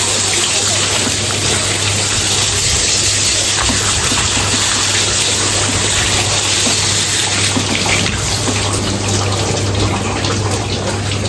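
Running water gushes loudly and steadily from a tap as freshly cleaned fish is rinsed for grilling, a constant close splashing with no voices.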